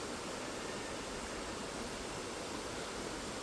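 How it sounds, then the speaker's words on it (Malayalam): A small waterfall pours over rocks during steady rain, making a constant, even rush of water that stays at the same level from start to finish with no voices. "ഇതാണ് ആ പറഞ്ഞ ചെറിയ വെള്ളച്ചാട്ടം"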